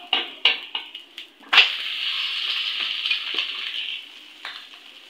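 Egg dosa sizzling on a hot griddle right after the flip: a burst of loud crackling hiss that holds steady for several seconds, with a few scraping taps before and light spattering pops at the end. No talking.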